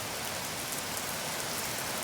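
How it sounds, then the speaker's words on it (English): Heavy rain pours steadily onto a driveway during a storm, a dense, even hiss of drops close by with no voices. "It's raining pretty hard."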